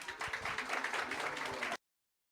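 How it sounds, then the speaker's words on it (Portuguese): Audience applause at an evening talk event: a dense, steady round of clapping, moderately loud and close, lasting under two seconds before cutting off abruptly to silence. "Uma salva de palmas"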